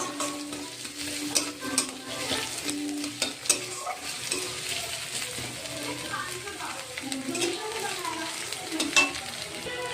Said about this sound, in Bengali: এর মধ্যে পড়বে এবার রসুন কুচি, আদা কুচি। এবার এগুলোকে একটু হালকা লাল লাল করে ভেজে নেব।